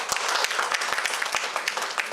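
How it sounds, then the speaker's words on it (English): A short burst of applause from a group, many hands clapping together in a lively, fairly close patter. "let's give each of us a huge round of applause."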